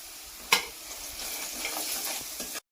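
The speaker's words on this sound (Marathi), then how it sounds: "आता मसाले पण परतले आहेत" Spices (chilli powder, coriander, cumin, homemade garam masala, turmeric and salt) sizzle steadily while being sautéed and stirred in a pan, with one sharp utensil clack near the start amid the continuous frying hiss.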